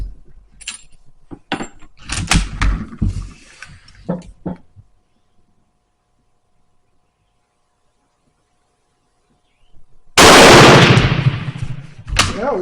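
Shots from a Turkish M38 Mauser rifle with a warm bore, fired with reloaded ammunition at an outdoor range: a cluster of sharp, loud cracks early on, then a long quiet gap, then another loud report with a ringing tail.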